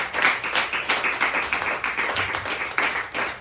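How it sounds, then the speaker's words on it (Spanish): Church congregation clapping during a service, a loose rhythmic patter of hands with uneven pulses, moderately close and lively. "dar un aplauso"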